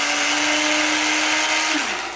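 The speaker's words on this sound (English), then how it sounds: "Again, blender. Do you see?" A kitchen blender blitzing a popsicle smoothie, loud and close, with a steady high whine that holds and then drops in pitch as the motor slows near the end.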